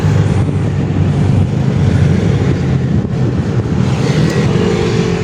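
A Ford Everest diesel engine runs loud and close just after its injectors are refitted, a steady rough idle with a dense low rumble and no talk over it.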